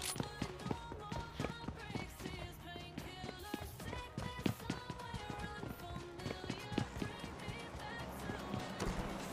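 Rapid footsteps of an enemy player thud across a house floor in PUBG Mobile Lite, a quick, steady run of close, clear taps over several seconds.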